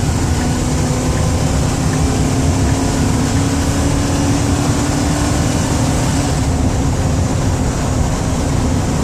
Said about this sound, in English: I'll let the engine run hard. I'll let you hear the transmission shift.